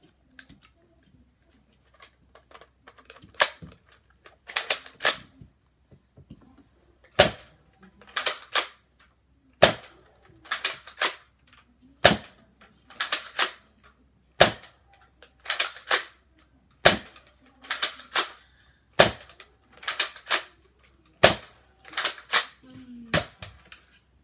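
A Nerf Rival Finisher blaster firing yellow Rival foam balls, a long series of sharp, loud pops at an irregular rhythm, each shot followed by brief mechanical clatter, close and alone against near silence.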